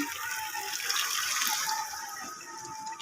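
Saved water being poured into a cooking pot, a steady gushing pour lasting a few seconds, fairly close and clear.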